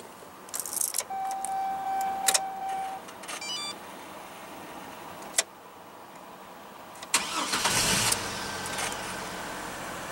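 Keys jingle and chimes beep before a 2002 Chevrolet Trailblazer's 4.2-liter inline six-cylinder engine cranks and catches, settling into a low idle after a loud start burst.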